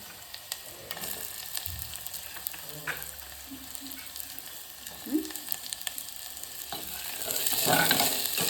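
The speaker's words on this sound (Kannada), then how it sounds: "ಸ್ವಲ್ಪ ಫ್ರೈ ಆದಮೇಲೆ ಒಂದು ಉಳ್ಳಾಗಡ್ಡೆ ಹಾಕೋರಿ" Onion sizzles in hot oil in a pan for soya chunks curry, with a soft steady frying hiss, occasional stirring scrapes and clinks, and the sizzle growing louder near the end.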